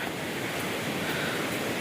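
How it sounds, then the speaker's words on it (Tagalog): Strong rushing water pours through Wawa Dam after rain, a dense, steady roar with no breaks, heard alone with nothing over it. "pero ang lakas ng agos ng tubig"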